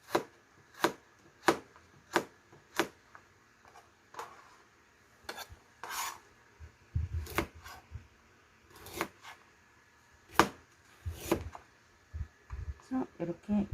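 A knife chops pork on a cutting board for sweet and sour pork, sharp knocks landing in a quick regular rhythm at first, then scattered cuts and scraping, with someone speaking quietly in between.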